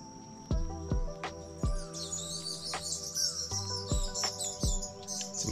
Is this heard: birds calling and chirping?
yes